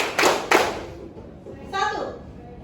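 Two sharp hand claps ring out a beat apart as children play a counting clap game in a classroom, followed by a teacher's voice talking.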